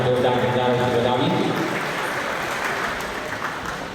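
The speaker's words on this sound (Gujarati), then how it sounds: "આપણે સૌ તાળીઓના જોરદાર નજારા વધાવી" An audience at a municipal development-week inauguration in Bhavnagar claps as a health card is presented. The applause is continuous and fairly loud, with a voice over it at the start.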